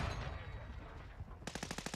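Light machine gun in Warzone 2 rattling off a fast burst of about eight evenly spaced, close, loud shots after a stretch of muffled background combat.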